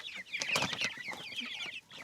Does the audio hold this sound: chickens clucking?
yes